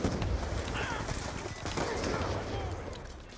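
Rapid automatic gunfire in the shooter game Black Ops 2, dense overlapping bursts filling the whole stretch with a near, loud rattle.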